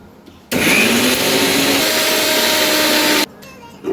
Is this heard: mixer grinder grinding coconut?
yes